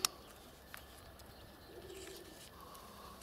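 Soft pigeon cooing amid quiet outdoor ambience, low and faint, with a couple of sharp clicks at the start and end.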